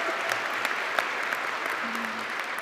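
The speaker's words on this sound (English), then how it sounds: "All right, yeah, let's cheer." Audience applause at a university student recognition awards ceremony in an auditorium, a dense even wash of clapping with a few louder claps and faint cheering.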